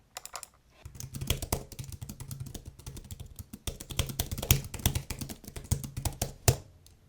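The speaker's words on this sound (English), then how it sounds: "Just a quick typing test here." Rapid typing on a compact Nillkin Cube Pocket travel keyboard, a close, quick stream of light key clicks and taps with brief pauses, no voices.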